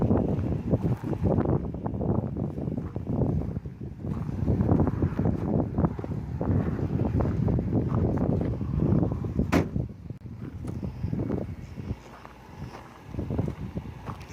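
Strong Texas wind buffets the microphone outdoors with continuous loud rumbling gusts that rise and fall, and brief quieter lulls between them.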